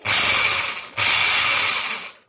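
Barrel-type rotary hammer drill with a bit fitted, set to hammer without rotation during repair for a missing impact fault: two loud bursts of harsh buzzing, rattling motor and hammering noise, close up with no talk.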